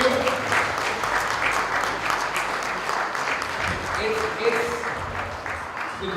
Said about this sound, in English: MP, this applause for you.